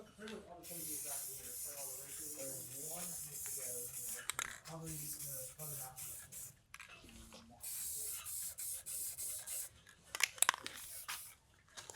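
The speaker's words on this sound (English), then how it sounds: "So we'll go ahead and get all this painted" Car parts being spray painted while repairing a Honda S2000's lower bodywork in a garage: bursts of aerosol hiss, close and steady with short pauses, over a voice talking throughout.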